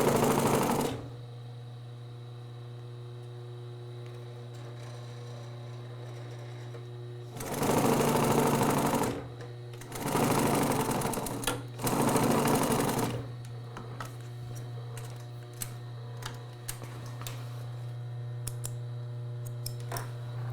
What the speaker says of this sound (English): When you're sewing these corners like this